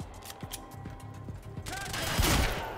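Shotgun fire in the video game Quantum Break, a few sharp, scattered shots followed by a louder, denser burst of blasts with mechanical clatter near the end.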